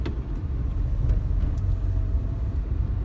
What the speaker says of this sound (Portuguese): À medida que eu tô andando aqui com o carro